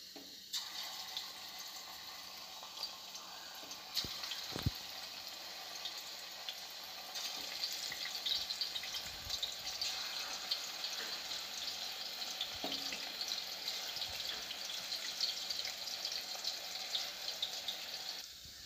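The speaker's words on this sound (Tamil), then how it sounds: "ஒரு கடாயில் இப்போ வந்து நம்ம ஒன்று ஒன்றா போட்டு அதெல்லாம் பொரித்து எடுத்துடலாம்" Chicken 65 pieces deep-fry in hot oil in a kadai, giving a steady bubbling sizzle that runs the whole time at moderate loudness, broken now and then by brief clicks and stirring knocks.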